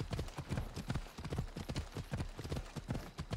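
Horse hooves clip-clop at a quick, steady rhythm in Assassin's Creed Odyssey, with close, even hoofbeats that run throughout and no talk over them.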